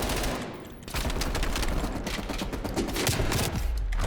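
Rapid, dense MP5 submachine gun fire from Call of Duty: Black Ops Cold War, with close automatic bursts that run nearly continuously after a brief dip near the start.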